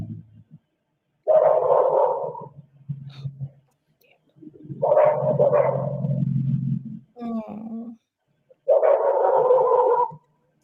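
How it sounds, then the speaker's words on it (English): A dog barks in a few separate bursts with pauses between, fairly close, and a person briefly speaks once. "Hear how he's barking?"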